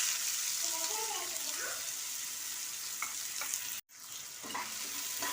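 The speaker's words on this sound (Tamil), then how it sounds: "இப்போ வெங்காயத்தை சேர்த்துக்கலாம்." Onions hit hot oil in a pan already holding cinnamon and cloves, giving a loud steady sizzle with stirring scrapes and a brief cut near the end, with someone speaking softly.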